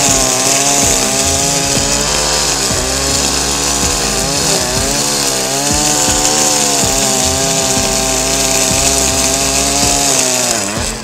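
Loud, steady high-revving whine of a gasoline brush cutter with a 2.4 mm or 4.5 mm trimmer line slicing through a weedy field, engine pitch wavering slightly as it bites grass, continuous and close with no talk.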